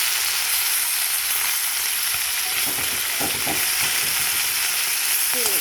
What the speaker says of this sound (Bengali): মাছটা ভাজা হয়ে যাচ্ছে।